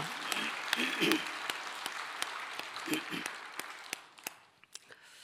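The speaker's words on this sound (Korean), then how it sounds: "하나님께서 역사하심을 믿고 선제박수로 영광을 올려드리겠습니다" A church congregation at a Sunday worship service claps together, a steady run of fairly even hand claps at moderate volume, with a voice speaking over the first part.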